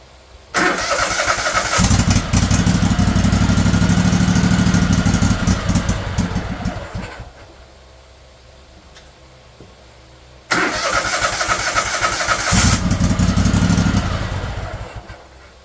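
A 20hp Kohler engine on a Craftsman LT1000 lawn tractor with a swapped 48-inch deck cranks and catches into a loud, steady close-up roar, cuts out, then cranks and runs again.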